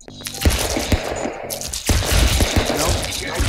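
In the game Stick Fight, the sticky gun fires rapid, punchy bursts of shots in quick succession, loud and close, with brief gaps between volleys.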